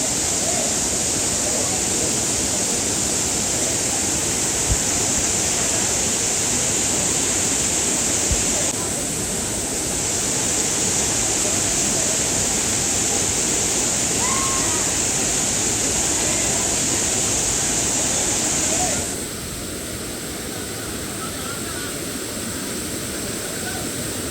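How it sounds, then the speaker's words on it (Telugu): Blue waterfall near Warangal: a steady, loud roar of rushing water continues unbroken throughout, close and enveloping, with no voices heard over it. "బ్లూ వాటర్ అయితే విజిట్ చేసిన వాటర్ ఫాల్ ఇది చాలా అల్టిమేట్ లొకేషన్"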